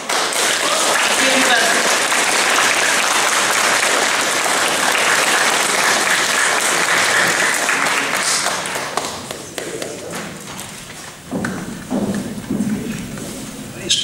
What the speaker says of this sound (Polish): Jeszcze raz duże brawa.